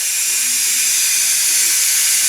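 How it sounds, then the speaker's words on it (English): A pressure cooker holding smoked pork vents its steam in a loud, steady, unbroken hiss at close range, with no talking. "lets all the steam out."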